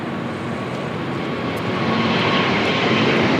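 An airliner rolls on the runway at LAX, its engines giving a loud, steady roar that swells slightly toward the end, with no voices over it.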